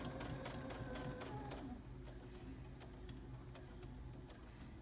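A sewing machine top-stitches a sleeve placket, running in a fast, steady mechanical whir with rhythmic ticking that eases off slightly after a couple of seconds, close and fairly quiet.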